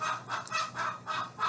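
Several chickens clucking and squawking close by in quick, overlapping bursts, with a raspy, repeated rhythm.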